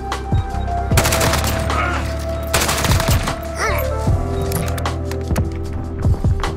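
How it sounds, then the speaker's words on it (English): Rapid bursts of AK-47 fire with a trophy mount in Modern Warfare, loud and close, several automatic strings broken by short pauses over a busy layer of game effects. "Double nuke with the trophy mount AK-47."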